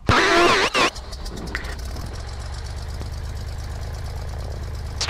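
A small airplane engine starts up, opening with a loud rising whine and cranking bursts, then catching and settling into a steady low idle rumble near 1,000 RPM, with no speech.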